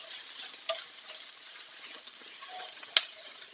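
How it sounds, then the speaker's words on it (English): Mushrooms frying in olive oil with garlic and onion in a pan over a gas flame, a soft steady sizzle with a couple of sharp ticks as they are stirred. "That sizzle has calmed down a little bit."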